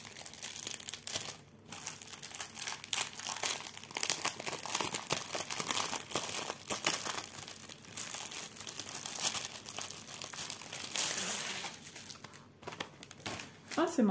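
A DIY Cross Stitch kit package is torn open and unwrapped close up, with continuous crinkling and rustling of paper and plastic, punctuated by sharper tearing bursts, while a person talks intermittently.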